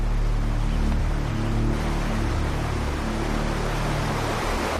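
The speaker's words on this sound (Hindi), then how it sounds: "इस बहते पानी को देख रहे हैं राजा?" Water flowing and rushing in a steady, broadband wash that stays loud and even throughout, with no voices present.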